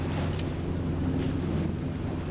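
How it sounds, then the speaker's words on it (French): A sailboat motoring under engine on the Atlantic near Cape May into a headwind, with heavy wind buffeting the microphone over a low, steady engine rumble and the wash of the sea, continuous and fairly loud. "mais on est en moteur parce qu'on a le vent en plein d'en face"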